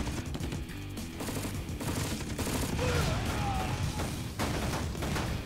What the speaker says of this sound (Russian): Танк, сделай залп